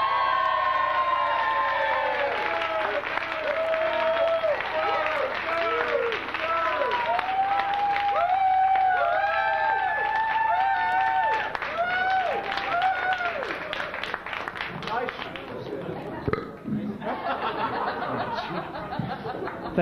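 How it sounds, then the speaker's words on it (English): A comedy club crowd at a New York stand-up show applauding and cheering, with a host's voice talking over the clapping and some chuckles mixed in before the noise thins out near the end. "give a big, fat, warm round of applause for Dave Edwards"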